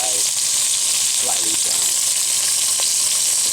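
Chicken browns in bacon fat in a frying pan, a loud, constant sizzle with a brief faint voice-like sound partway through.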